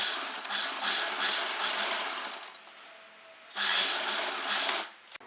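A sewing machine stitches a fabric strip for a child's kurta, running in short bursts of rapid mechanical whirring with a brief pause between, close and moderately quiet.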